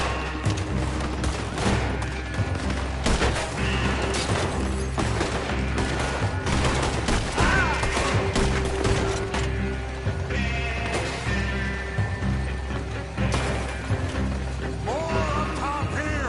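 Gunfire in the video game Red Dead Redemption 2, loud rapid shots and heavy fusillades with booming impacts, continuous throughout, with brief shouts mixed in.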